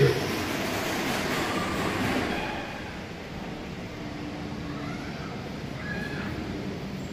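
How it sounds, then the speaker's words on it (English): A steady rumbling roar of an ATL SkyTrain airport people mover arriving at a station, loud at first and easing slightly, with faint squeals and rattles over the continuous rail noise. "Train is arriving."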